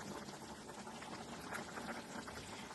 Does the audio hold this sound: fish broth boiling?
yes